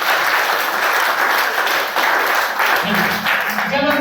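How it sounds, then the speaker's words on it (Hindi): An audience at an RCM business meeting claps for the business's first distributor, a full, continuous round of applause that stays strong throughout, with a voice and some tonal sound rising over it near the end. "मैं चाहूंगा एक बार उनके नाम के लिए ताली बजाएं"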